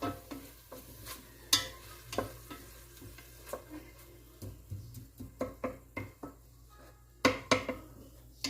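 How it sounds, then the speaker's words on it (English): Ingredients for chicken cacciatore are stirred in a pot, with scraping spoon strokes and clinks against the metal recurring irregularly over a low, steady sizzle, fairly close and without talk. "Just stir it around and saute it."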